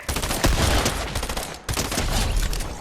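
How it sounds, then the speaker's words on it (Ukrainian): Shotgun blasts in Fortnite go off in two quick bursts with a short gap between them, loud and close, with no voices. "А це якраз дробашик, він з одного пострілу вбиває."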